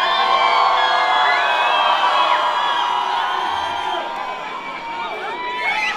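A concert crowd cheers and whoops for a young performer, a dense, loud wash of shouting voices that holds steady, dips slightly, then swells again.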